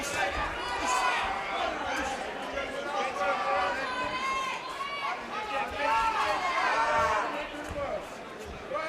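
Dense crowd chatter and babble fill an arena at a live professional boxing event at the Indigo at the O2, a steady, loud hubbub with overlapping voices throughout.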